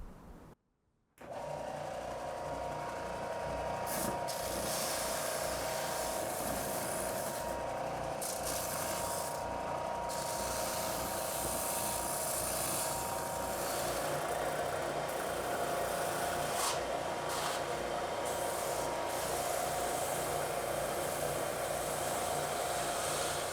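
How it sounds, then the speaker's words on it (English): Power sander working a wooden heart-shaped coaster block, a steady loud motor whine with a dense rasping hiss that starts after a short pause and runs continuously, with brief dips as the wood shifts against the sander. "I'm going to take it over here to the sander and clean it up a little bit"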